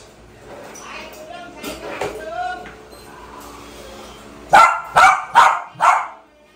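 Two black dogs squabble at close range, with whines and growling grumbles first, then a run of four loud, sharp barks spaced evenly near the end.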